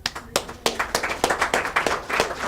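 Audience at an evening discussion-group meeting claps for a speaker, a short burst of close, rhythmic hand claps from a small crowd, fairly loud and without talking.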